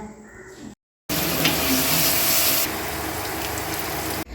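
Crushed ginger, garlic, onion and green chilli sautéing in a pan, a loud, steady sizzle and hiss that starts abruptly after a short silence and holds close up for several seconds.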